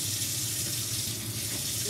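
Thai vegetables are rinsed under a running tap, a steady, even splash and hiss of water lasting the whole moment, close and moderately quiet.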